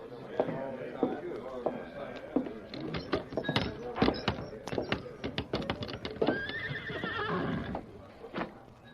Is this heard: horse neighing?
yes